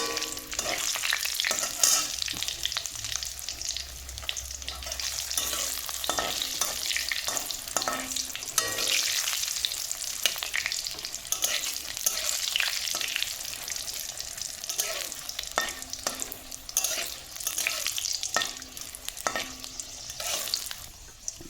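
Bay leaves and dried red chillies fry in hot oil with a steady, dense sizzle, punctuated by stirring scrapes, close and continuous for the whole stretch with no talk.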